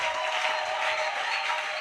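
A church congregation applauds and cheers for the Lord during a service, a dense, steady wash of clapping and crowd noise, moderately loud and continuous without a break.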